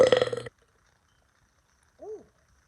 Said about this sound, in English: I always burp.